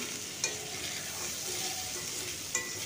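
Potatoes being stirred with salt and turmeric in a pan for a vegetarian vegetable curry with Gobindobhog rice, giving a steady soft sizzle with a couple of sharper scrapes of the spoon.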